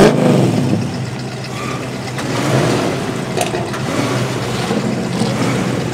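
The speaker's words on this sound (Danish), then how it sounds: "Alle bilerne er i gang med at starte op nu" Several cars start up and idle together outdoors before a drive across Denmark toward Højer Sluse, a steady loud engine rumble with a slight swell near the middle and no talking.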